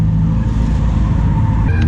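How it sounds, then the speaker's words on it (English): A drift car's engine revs loudly and steadily up close at a track, a strong continuous roar with a slight pitch shift near the end. "I've never seen this car being drifted."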